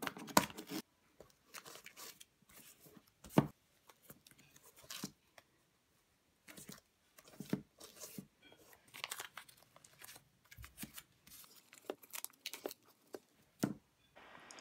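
Strips of tape are torn and crinkled for a skate shoe toe cap, in short, sharp ripping bursts separated by quiet pauses, close by with no talking.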